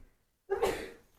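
A single quick sneeze bursts out sharply and fades over half a second, fairly quiet, during a Warhammer 40,000 tabletop game session after a brief hush.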